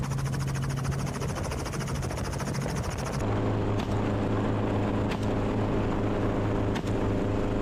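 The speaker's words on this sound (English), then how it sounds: "As the helicopter descended" Helicopter rotor and turbine roar, loud and continuous, shifting in pitch partway through as it descends, with a few faint sharp ticks in the later section.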